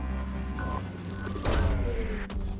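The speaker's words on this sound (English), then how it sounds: "Launching probe." A probe launches in Mass Effect 2, a building mechanical whoosh that swells into a loud deep burst midway and then tails off, with no talk over it.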